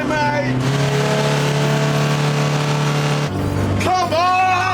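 A van with a 2.5-litre Ford engine racing: a loud, close engine drone that holds a steady pitch, then drops and climbs again as it revs, with a shout heard over it.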